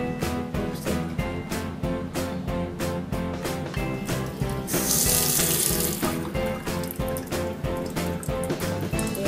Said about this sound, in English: let me just put on the cold water